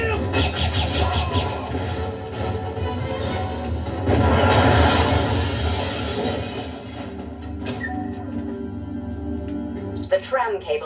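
Tram running along a tram line in the video game 007 Agent Under Fire, a steady loud rumble of wheels and metal with crashing bursts, heard under game dialogue and music.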